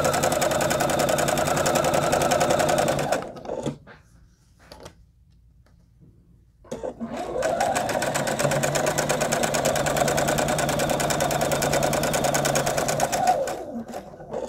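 A sewing machine stitches a crib-size quilt block for a charity project, running in two long, steady, loud whirring stretches separated by a few seconds of near silence.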